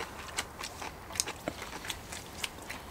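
Close, quiet crunchy bites and chewing of grilled pork belly and garlic stems cooked on a cast-iron lid, with several sharp crisp snaps spaced irregularly and no talk.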